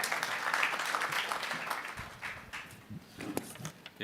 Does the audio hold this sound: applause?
yes